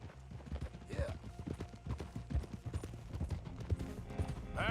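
Steady clip-clop of horse hooves in Red Dead Redemption 2, a regular trotting rhythm with a faint whinny, heard under game sound and soft speech.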